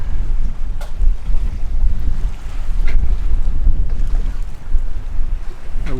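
Strong wind buffeting a sailing catamaran at anchor near an island, a loud continuous low roar with gusts and faint water sloshing, no voices.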